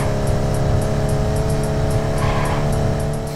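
A pickup truck races at top speed in the American Lowriders video game, its engine droning loud and steady, with faint tire squeal and a regular ticking as it passes objects at speed.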